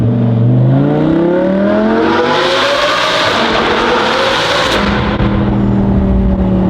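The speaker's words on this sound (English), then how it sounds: "if you're driving at higher RPMs, it rips." A car with a non-valve exhaust revs hard at high RPM inside a tunnel, its loud roar climbing in pitch and swelling into a dense, ripping blare before settling, with no voices.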